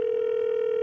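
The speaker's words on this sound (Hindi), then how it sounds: "दूसरे कॉलर को फोन लगाते हैं और पूछते हैं उनके मन के सवाल." Telephone dial tone heard while a call is placed to a second caller on a comedy show, a single steady continuous tone, loud and alone.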